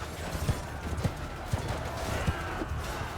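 Hoofbeats of a horse in Mount & Blade II: Bannerlord, a steady clip-clop rhythm at moderate volume over a soft background hum.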